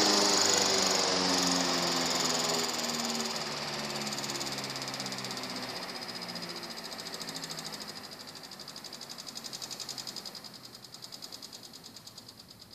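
A Century S3 fan spins down after being switched off, its steady whir and hum slowly dropping in pitch and loudness, with a faint rhythmic pulsing as it coasts toward a stop.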